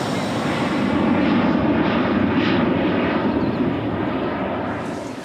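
Airliner engines roar during a takeoff climb, a loud, steady broadband rumble that swells and then slowly fades near the end, heard from inside without clear talk.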